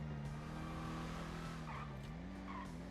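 Car skidding in a roleplay video game as a too-strong handbrake locks up, a steady tire screech over engine drone lasting the whole few seconds with no talk.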